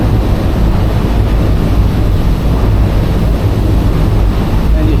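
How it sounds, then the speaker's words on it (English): Thundering roar of a large volume of water rushing out as it drains near Niagara Falls, a dense, steady, loud wash with no break across the whole stretch. "you hear the thundering of the water rushing out"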